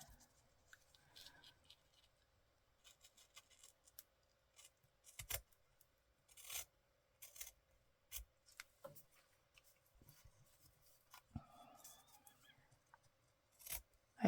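Scissors snip now and then while paper is cut for a tea bag window in a junk journal. The sharp clicks come close up in an irregular rhythm between quiet stretches, with faint rustling and no talk.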